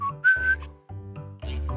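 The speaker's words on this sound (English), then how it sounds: "Shortly after, Sir Bones enters the town, whistling happily." A cheerful whistled tune, a few short melodic phrases with brief pauses between them, clear and close over soft background music.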